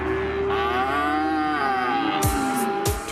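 Free-range cattle in Texas give a long, loud, drawn-out moo that swells and falls steadily, with a couple of sharp metallic clanks near the end.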